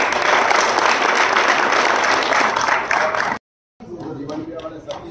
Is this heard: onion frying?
no